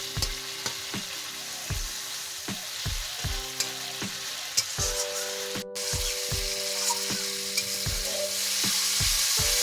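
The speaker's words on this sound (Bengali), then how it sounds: "মশলাগুলো কষানো হয়ে গেছে।" Spice masala for a chapila fish curry being stir-fried in a pan, loud close sizzling with repeated rhythmic scrapes and knocks of a spoon against the pan throughout, no talk.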